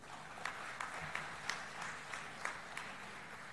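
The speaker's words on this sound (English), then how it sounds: "We all should have a very big round of applause in his honor." Applause from an audience at an inaugural gathering, a steady far-off wash of many hands clapping with a few sharper claps standing out, continuing evenly throughout with no voices.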